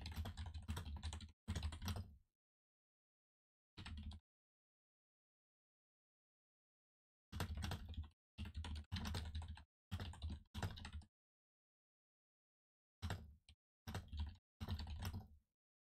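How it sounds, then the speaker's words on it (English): Bursts of fast typing on a computer keyboard, close and clattery, come in short runs separated by stretches of silence. "I was typing in the Discord."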